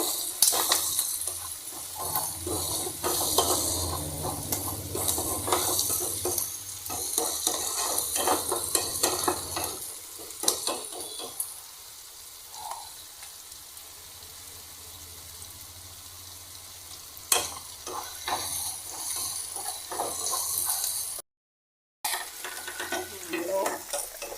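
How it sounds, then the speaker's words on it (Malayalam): Sliced onions sautéing in a pan with a pinch of salt while a spoon stirs them, for a Kerala-style beef ularthiyathu, a steady close sizzle with repeated scraping stirs, easing into quieter frying midway and briefly dropping out near the end. "ഉള്ളി വഴരുന്നതേ ഉള്ളൂ. അതിനെ നമ്മളിങ്ങനെ ഇളക്കിക്കൊണ്ട് കൊടുക്കണം."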